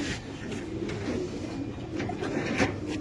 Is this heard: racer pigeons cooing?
yes